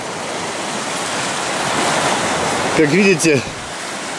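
Waves and rushing water at the mouth of the Belbek river near a Crimean beach, a steady broad wash that builds slightly. Someone speaks briefly near the end, over the surf.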